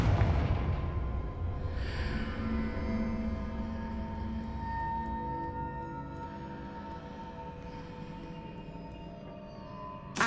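Fiery spell blasts from Confringo in Hogwarts Legacy, a series of muffled booming bursts with rumbling tails over a fairly quiet, continuous low background, with no voices.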